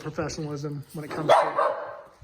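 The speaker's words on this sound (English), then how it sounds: "excuse the dog here" A dog barks a few times nearby, sharp yaps mixed in with someone talking.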